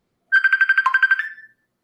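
A mobile phone ringtone plays alone, a rapid run of bright, evenly pulsed electronic tones lasting about a second before trailing off, loud and close in an otherwise quiet room.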